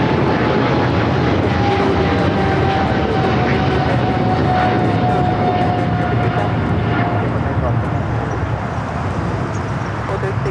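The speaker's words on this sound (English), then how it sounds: "A lot of heavies, including that LATAM Dreamliner in a special livery." A LATAM Boeing Dreamliner jet airliner in special livery at LAX, producing a loud, continuous engine roar that fades slightly toward the end, with a voice talking over it.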